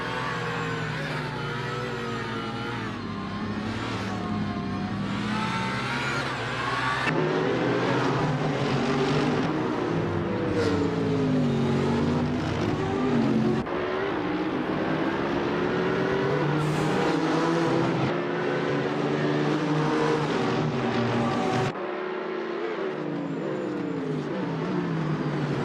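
Race cars in a GT300 class race at Surfers Paradise, a Ferrari 360R among them, roar loudly and continuously with shifting engine pitch as cars pass and change gear, with no talk over them.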